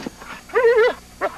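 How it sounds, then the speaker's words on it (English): A dog in a 1980s TV commercial for a broadleaf weed killer gives a short, close whimpering yelp with a rising whine, then a brief second yip, while a voice speaks around it. "Best little weeding dog around."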